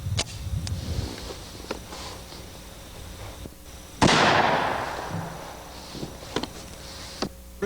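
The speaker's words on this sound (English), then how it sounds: "let's take our 45 ACP 185 grain jacketed hollow point." A handgun fires a .45 ACP 185-grain jacketed hollow point round outdoors, one sharp loud shot midway followed by a long decaying echo, with a few softer clicks and handling sounds before and after.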